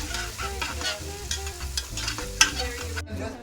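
Garlic frying in cooking oil as it is stirred, close sizzle with rhythmic scraping strokes and a sharp clink, ending abruptly near the end.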